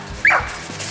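A beagle gives a single short, high yip or bark during a rabbit hunt outdoors, fairly distant, over faint background noise.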